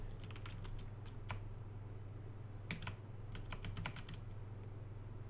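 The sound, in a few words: typing a terminal command on a computer keyboard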